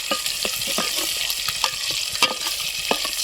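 Spices crackle and sizzle in hot oil for a double tempering at an outdoor farm cookout, with a steady fry broken by repeated scraping stirs close up.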